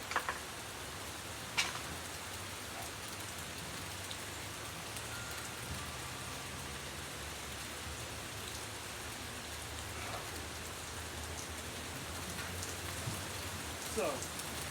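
Steady rain patters outdoors on surfaces in a constant, even wash, with a few louder drips and knocks standing out near the start and end.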